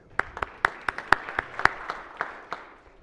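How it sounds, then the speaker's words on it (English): Sparse applause on a state Senate floor for a high school page: around a dozen crisp claps from a few hands, irregular and thinning out toward the end. "Big round of applause."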